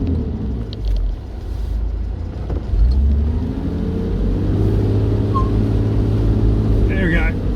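A car's wheel spins in clay, the engine revving up into a sustained droning whine with a low rumble beneath, steady and close.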